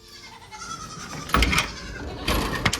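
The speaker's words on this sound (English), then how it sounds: "you have beautiful goats" Goats on a farm bleating, two loud, close, wavering calls with a pause between them, over quiet background noise.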